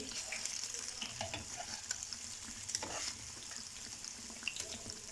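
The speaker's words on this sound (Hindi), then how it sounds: "मीडियम से भी लो हीट पे आप इनको फ्राई करेंगी" Soji bread pakoras fry in oil over medium-low heat, giving a steady broad sizzle with scattered small pops and crackles throughout, moderately quiet and with no voices.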